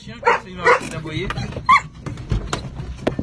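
A dog barks repeatedly and loudly close by on a hike, with sharp yips and woofs scattered among people talking over it.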